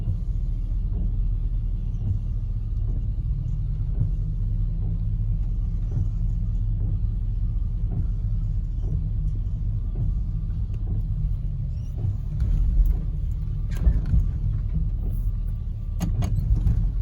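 A Buick big-block car with a Quadrajet carburetor pulls away, its engine a steady low rumble close by, with light clicks and rattles and a brief rise in noise toward the end.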